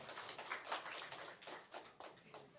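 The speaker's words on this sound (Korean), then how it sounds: "박수 한번 해주세요" Audience applause fills a church service, a steady wash of many hands clapping together for the whole stretch, moderately loud with no talk over it.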